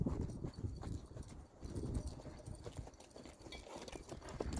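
Horse hooves clip-clop steadily while a rider works the horse through its gaits, with spurs being introduced; the rhythmic footfalls sound close and fairly clear, with no talk over them.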